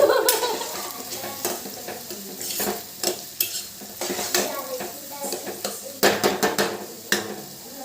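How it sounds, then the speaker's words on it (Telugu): Onions fry in a pan toward brown, with a low sizzle under frequent sharp clinks and scrapes of a utensil stirring against the metal, close by. "బ్రౌన్ కలర్లో వచ్చేదాకా వేయించాలి."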